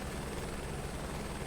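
Helicopter in Flight Simulator 2024 with a steady, continuous rotor and engine drone, low thumping and an even whine at constant loudness throughout, with no voices over it.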